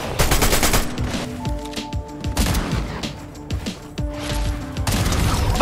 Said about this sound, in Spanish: Los tiros rápidos con esta escopeta son fáciles de dar y los tiros con salto también.